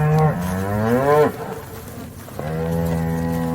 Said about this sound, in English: she's always the one that's usually mooing, making all the noise